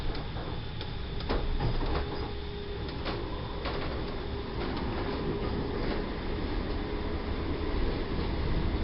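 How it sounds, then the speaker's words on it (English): A Manchester Metrolink light rail tram runs along a new line, giving a steady loud rumble of wheels on rails with repeated rhythmic clicks and clunks from the track throughout. "It's light rail, which means trams have to travel a lot slower."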